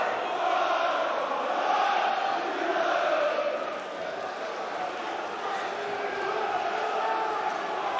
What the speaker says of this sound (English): Crowd noise really building up